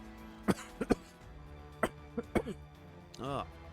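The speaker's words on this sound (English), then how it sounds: "Nasty case of the coughs today" Several short, sharp coughs in quick bursts, close to the listener, followed by a brief throat-clearing rasp at the end.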